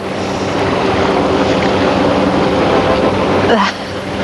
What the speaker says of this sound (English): the waves are splashing